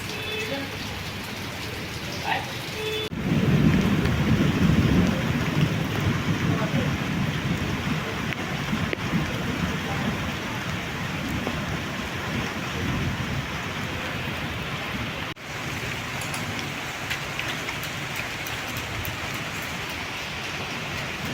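Heavy rain pours steadily during a district thunderstorm, a dense continuous hiss with low thunder rumbling through the early part, carrying on without speech for about twenty seconds.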